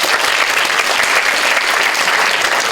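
A large audience at a university lecture in Korea claps loudly and steadily, a dense wash of applause throughout with no pauses.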